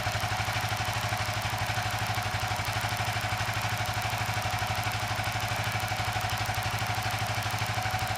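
A Suzuki FU 150 FI motorcycle engine idles with a steady, rapid, even putter and a faint mechanical clatter, continuous and unchanging from nearby, with no one talking over it.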